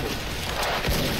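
A grenade goes off in the shooter game Special Force, one deep, loud boom landing near the end amid dense, noisy battle sound.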